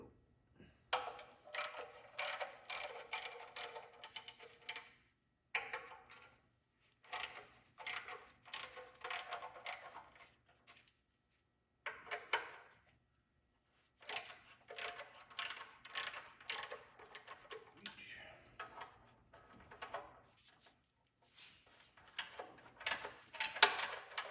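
A ratchet wrench works on 10mm bolts holding the heat shield of a Mazda Miata, with rapid clicking bursts coming close and clear in short repeated runs separated by quiet pauses.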